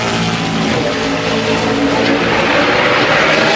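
A NASCAR Sprint Cup race car at full throttle on a qualifying lap around Bristol Motor Speedway in 2010, a loud, steady engine roar that holds without a break for the whole stretch.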